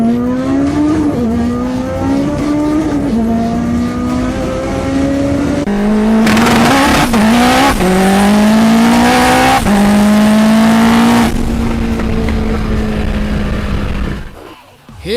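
A 1,700 hp Mitsubishi Evo screams down a drag strip, its engine climbing loud and close through several hard upshifts over about fourteen seconds before cutting off abruptly.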